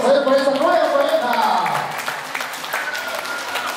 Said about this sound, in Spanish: Fuerte los aplausos a él por esta nueva pareja.